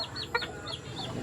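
Bantam chickens cluck softly at night, with a few short murmuring clucks and faint high chirps over a quiet background, all brief and fairly close.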